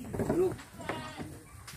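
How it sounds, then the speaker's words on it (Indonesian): A goat bleats at a village goat farm in Sigi, Indonesia, one wavering close bleat followed by a few fainter calls and rustling, with a person speaking nearby. "Sehat kambing om."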